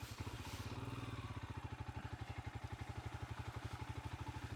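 Royal Enfield Himalayan 411 single-cylinder motorcycle plodding slowly through muddy puddles, engine thumping in a steady, even low chug at gentle throttle, close and continuous with faint splashing.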